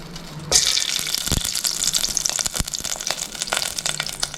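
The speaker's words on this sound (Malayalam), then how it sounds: "ഇനി നമുക്കിതിലേക്ക് കുറച്ച് നെയ്യ് ഒഴിച്ചു കൊടുക്കാം" Ghee poured into a pan set on the stove while making coconut laddoo: a sudden hissing trickle starts after half a second and carries on as a steady bright sizzle with small crackles, close and alone, with no talking.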